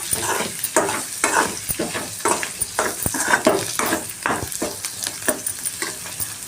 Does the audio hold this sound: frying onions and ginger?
yes